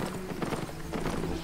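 Horse hooves clip-clop at a steady walking pace in the Albion Online video game, close and loud over a constant background hum.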